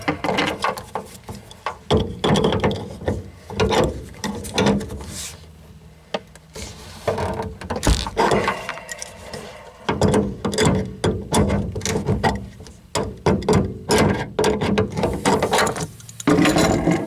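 A wrench ratchets and clanks while disconnecting the gas line on a Suburban ST60 RV water heater: repeated close, dense metallic clicking and scraping with short pauses, with no talking.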